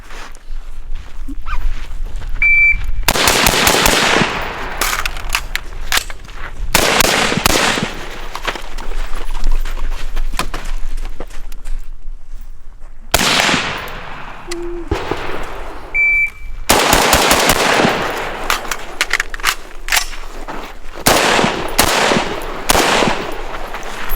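FN SCAR 16 rifles firing at targets on an outdoor carbine course, loud sharp shots in rapid strings and bursts with brief pauses between volleys, echoing across the range.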